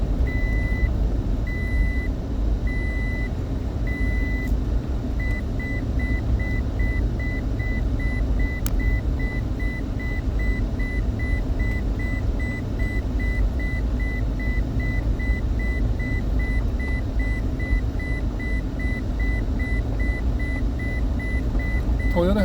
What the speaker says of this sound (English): Toyota has the longest seatbelt alarms in history